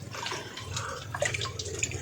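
Water is poured and drips during a bath for an elderly man, a quick sequence of faint splashes and droplets over a short stretch.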